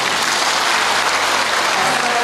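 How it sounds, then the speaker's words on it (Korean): Audience at a national merit award ceremony in Busan applauding, a dense, even burst of clapping from many hands, close and loud with no talk. "박수 부탁드립니다."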